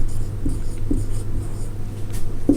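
Marker or chalk scratches against a board during a class 10 maths lesson on real numbers and prime factorisation, soft short strokes repeating at a moderate pace over a steady low hum, close by with no voice over them.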